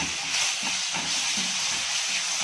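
Ginger garlic paste frying in a pan, a steady close hiss and sizzle running evenly throughout without any talk.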